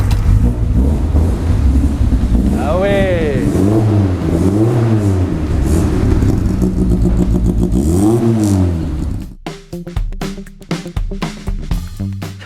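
A car engine revs hard several times, rising and falling in loud surging bursts, then drops to a rough idle. Someone briefly exclaims near the end.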